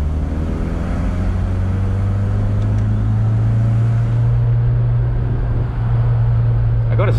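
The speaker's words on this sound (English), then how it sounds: "I gotta say, I love the sound of this Fiat." A Fiat car with a stock, unmodified exhaust drones steadily from the cabin while driving, a constant low engine hum and exhaust rumble throughout, with faint voices underneath.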